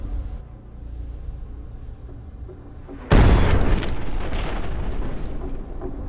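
A loud, close boom bursts a passage open in the VR game Dead Moon Revenge on Phobos, erupting suddenly after quiet low ambience and trailing into a long rumbling roar.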